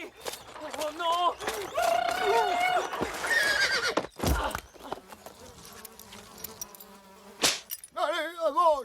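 In a French animated film, a startled horse gives loud, wavering whinnies, first in a long burst and again at the end, along with hoof clatter, buzzing and a voice.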